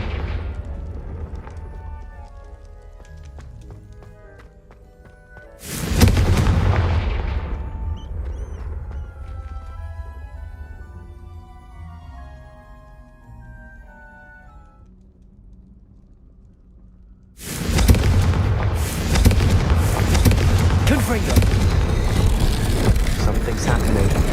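Two heavy spell blasts explode in Hogwarts Legacy, each one a sudden loud boom that gives way to a long rumbling roar, with softer game sounds and music in the quiet gaps between them.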